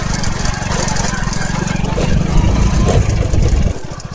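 A motorbike engine runs close by in a forest setting, a loud low rapid putter with steady pulsing that shifts rhythm near the end, over light background noise.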